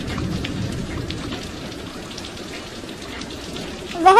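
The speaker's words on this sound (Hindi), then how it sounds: "कितनी देर से बारिश आ रही है, रुकने का नाम ही नहीं ले रही।" Heavy rain pours steadily in a dense, close wash of noise, with a brief louder burst near the end.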